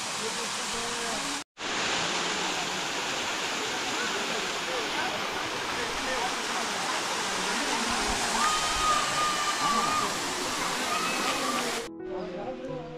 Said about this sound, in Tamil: தண்ணி அந்த பாறையிலேருந்து வலிக்கு ஊற்றிட்டு இருக்கு